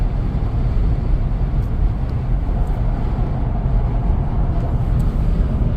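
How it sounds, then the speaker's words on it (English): Steady broadband rush of wind and road noise heard from inside a moving Toyota Land Cruiser 200 on Michelin tyres, a constant low roar with no talking. "Listen to the wind."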